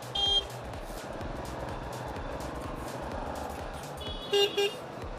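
Car horns toot in short bursts at the start and again near the end, over a steady rumble of heavy road traffic heard from a Bajaj Pulsar N160 riding through the congestion.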